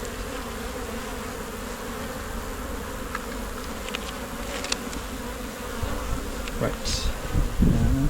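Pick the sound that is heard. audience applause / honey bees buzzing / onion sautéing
honey bees buzzing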